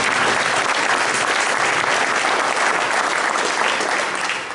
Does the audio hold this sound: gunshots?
no